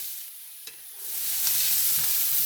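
Potatoes sizzle and spatter in a hot pan, quiet at first, then swelling into a steady loud frying hiss with a brief clink of a utensil.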